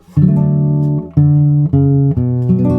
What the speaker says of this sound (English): This is the 6th chord, a very important chord.